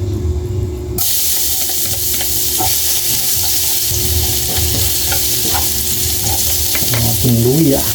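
Ingredients sizzle and fry in a hot pan for coconut milk adobo with eel, with steady hissing and stirring scrapes throughout; a louder burst starts after the first second, and a brief voice-like tone comes near the end.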